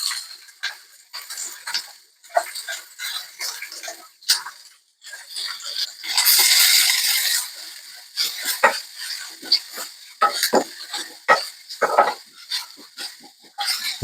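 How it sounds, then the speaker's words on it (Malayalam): Finely chopped onion drops into a hot pan with garlic and ginger for a mushroom masala, giving a loud burst of sizzling frying that settles into scattered stirring clicks and scrapes. "ചെറുങ്ങനെ അരിഞ്ഞ ഉള്ളി അടിച്ചു കൊടുക്കാം."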